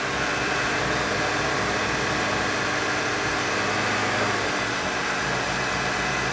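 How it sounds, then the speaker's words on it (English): A 2013 VW GTI 2.0L turbo engine idles roughly during a chemical carbon cleaning, a loud steady drone with slightly uneven running. "And again, the motor should run a little rough."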